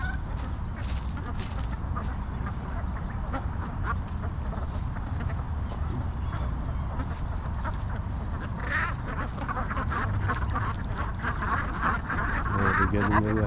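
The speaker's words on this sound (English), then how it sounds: "if you guys can see those duckies right there" Ducks quack repeatedly at a pier in Brooklyn, a lively chorus of nasal calls at moderate distance over steady outdoor background noise, growing more excited toward the end.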